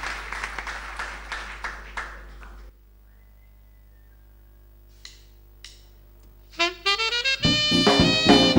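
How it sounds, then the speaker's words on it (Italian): A burst of audience applause before a song, lively and moderately loud, cutting off into near silence with a few scattered claps, then music starts. "quindi io vorrei un grande applauso, grazie"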